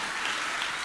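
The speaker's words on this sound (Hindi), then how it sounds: "तुम लोग हंस रही तो ताली तो बजा दो एक बार" Audience applause at a spiritual discourse: a short, dense wash of many hands clapping together, steady and fairly loud, with no voice over it.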